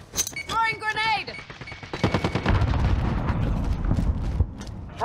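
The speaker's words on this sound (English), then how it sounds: "Throwing grenade." A grenade thrown and exploding in a military shooter game, a loud blast that rolls into sustained booming and crackle, after a short spoken callout at the start and under steady gunfire.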